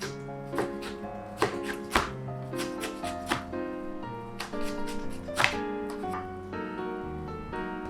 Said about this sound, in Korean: 이번에는 김치를 좀 작게 썰어주세요.